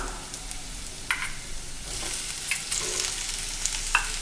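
Chopped tomato hitting a hot pan with ginger garlic paste, a steady sizzle broken by several sharp utensil scrapes and taps while it is stirred.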